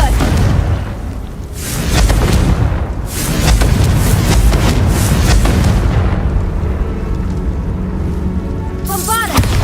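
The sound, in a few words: Confringo spell blast in video game Hogwarts Legacy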